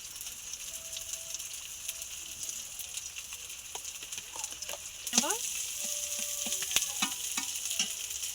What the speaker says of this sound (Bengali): মাছের সাথে পেঁয়াজটা ভালো করে ভাজা হয়ে গেছে